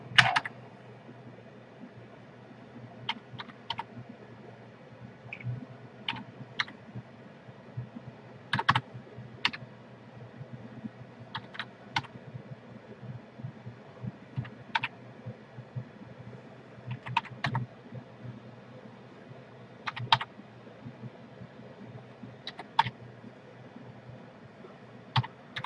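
Someone types a Halo CD key on a computer keyboard, producing sparse, irregular clusters of crisp key clicks over a low steady room hum, with no talking.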